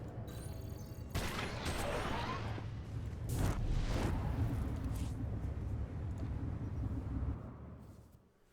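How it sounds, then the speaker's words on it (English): Turret fire in Star Wars: The Old Republic, a sustained barrage of heavy blasts and rumbling gunfire that holds loud for several seconds and then fades out. "Fire the turrets."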